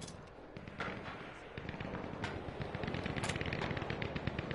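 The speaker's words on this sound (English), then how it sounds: "Heavy gunfire." Heavy, rapid gunfire rattles nonstop in a video game, with dense overlapping shots and sharp bursts. It is loud and continuous throughout, with no talk over it.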